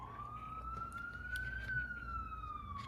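An emergency vehicle siren wails steadily as it passes outside, its tone sweeping up and then down again over low background rumble, loud and continuous with no talk.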